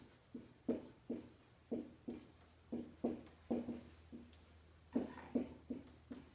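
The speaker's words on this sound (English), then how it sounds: "So let's write that down." A pen or pencil scratches quickly across paper as notes are taken on population growth, in a run of short, closely spaced strokes, faint and near, with no talking.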